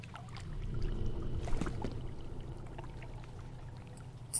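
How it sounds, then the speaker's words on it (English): Water pours and splashes steadily in a water treatment plant in the game F.E.A.R., a continuous rushing wash with a few brief clanks over a low hum, with no talk. "Sounds like water."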